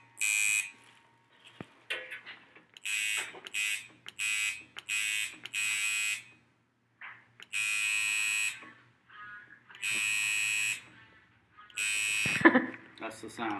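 A high, harsh electric buzzing runs in short and long bursts with silent gaps between, close and loud, with a faint voice in the quiet moments.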